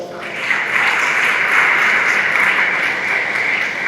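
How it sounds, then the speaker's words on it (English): A loud audience claps steadily at a talk on being connected yet disconnected, the dense applause filling about four seconds with no voices over it. "Please give her an applause for that."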